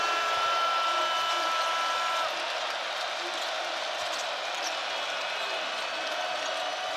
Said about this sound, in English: And the crowd's starting to buzz a little bit.